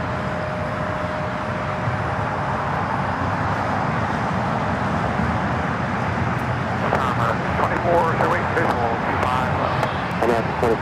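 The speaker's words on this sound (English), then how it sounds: "Atlas Air 9178 taking off to Seoul" An Atlas Air Boeing 747-8 freighter takes off from LAX. A loud, broad, continuous jet roar holds steady throughout, with voices talking over it at an outdoor plane-spotting spot.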